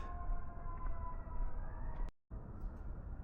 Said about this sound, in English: Hear those sirens going?